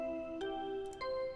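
A synthesized announcement chime from the video game Danganronpa: Trigger Happy Havoc, sustained bell-like tones that step up in pitch twice, clear and close, with no talking.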